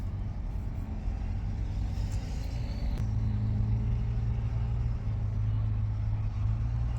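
A pickup truck hauls a heavy pallet of sod, its engine giving a steady low rumble that stays close and constant throughout, with a slight shift in tone partway through and no talking.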